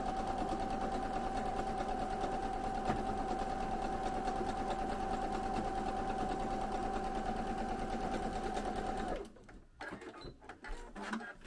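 A sewing machine runs steadily, stitching long quilt seams for a chunky quilted needle book cover, a close, even mechanical whir with rapid needle ticking that stops near the end, leaving faint handling noises.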